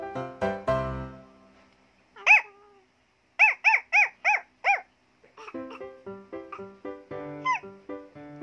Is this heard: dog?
yes